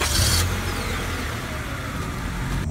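A car engine runs steadily as the car is moved on uneven ground, a continuous mid-pitched motor hum at close range, slightly louder at the start, with no voices.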